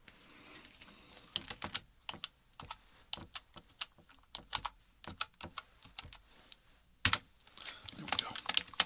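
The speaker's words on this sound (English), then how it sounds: "So let me type that in real quick." Typing on a computer keyboard in an ASMR role-play, with bursts of close, crisp key clicks in an irregular rhythm, pausing briefly and then resuming in a quicker, denser flurry.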